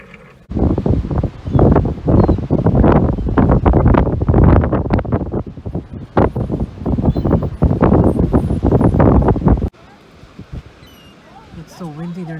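Strong coastal wind at Pacific Grove buffets the microphone in loud, continuous gusts for most of the stretch, then drops to a quieter breezy hush near the end.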